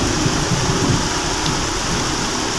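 Sudden heavy rain pours steadily and loudly at night, a dense continuous hiss with low rumbling texture, close and unbroken throughout with no voices.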